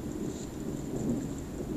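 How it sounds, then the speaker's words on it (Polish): Incoming Grad rocket artillery fire, heard from a trench near Kherson in Ukraine, is a distant, low, continuous rumble that rolls on steadily for a couple of seconds, muffled and far off with no speech. "O, właśnie leci do nas grad."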